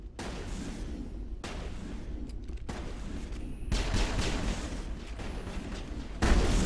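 Gunfire sounds in the Mass Effect video game as scattered sharp shots and short bursts over a rumbling combat backdrop, growing denser and louder toward the end.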